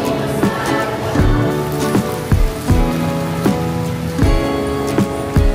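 Rain in the Philippines, a steady patter of drops on hard surfaces with sharp, heavy drips at irregular moments, close and fairly loud, with no talk.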